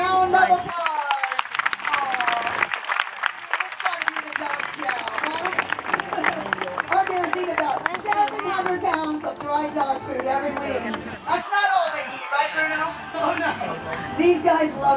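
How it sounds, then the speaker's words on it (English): A crowd at a state fair bear show breaks into applause and cheering, dense clapping filling the space with hubbub and voices mixed in, steady throughout and fairly close. "A well-deserved round of applause."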